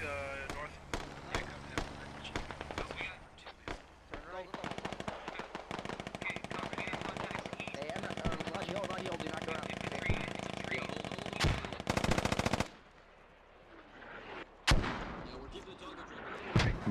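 A military video game battle roars with rapid machine-gun bursts and heavy booming mortar impacts, dense and loud, thinning into a brief lull before a few more sharp blasts.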